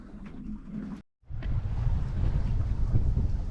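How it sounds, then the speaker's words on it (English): Steady wind roars and buffets around a sailing boat in 12 knots of breeze, a broad rushing noise with low gusty rumble, broken by one brief dropout before the wind returns. "Yay, 12 knots of wind."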